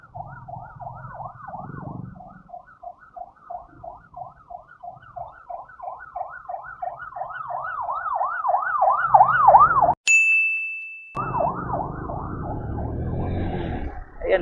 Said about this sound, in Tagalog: While waiting sa stoplight, biglang may ambulance na tumunog sa ating likod.